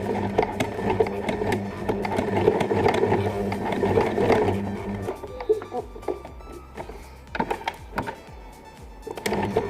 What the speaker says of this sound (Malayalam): ഇതിൻ്റെ മേലെ കൂടി തന്നെ സ്റ്റിച്ച് ചെയ്യുക